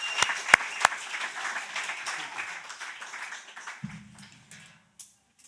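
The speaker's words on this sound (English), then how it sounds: "A final round of applause for Suleiman Raja." An audience at a university winter school on decoloniality gives a final round of applause, steady clapping from many hands that gradually thins and dies away to near silence.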